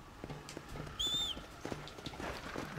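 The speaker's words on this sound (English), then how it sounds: "That's my horse." Horse hooves clip-clopping in Red Dead Redemption: Undead Nightmare, a soft, steady rhythm of hoofbeats with a brief whistle-like tone partway through.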